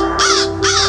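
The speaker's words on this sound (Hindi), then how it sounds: "काँ काँ चिल्लाता कौवा" A crow gives two loud, harsh caws in quick succession, close and clear over a faint steady hum.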